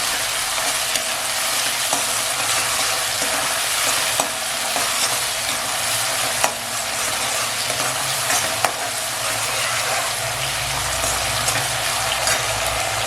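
Onion and tomato fry for a chicken gravy, giving a steady, loud sizzle and crackle that lasts throughout, with occasional stirring scrapes and no talking.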